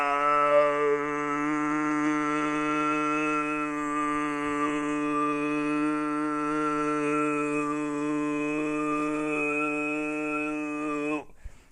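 Tuvan throat singing with the mouth brought forward and the lips shaped into a small opening: a steady, droning low voice with a whistling overtone, held continuously for about eleven seconds before stopping abruptly.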